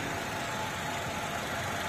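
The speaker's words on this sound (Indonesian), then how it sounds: "Ini salah satu contoh mobil yang suaranya halus," A used car's engine idles smoothly with no knocking, a steady, even hum held close and fairly quiet without any talking.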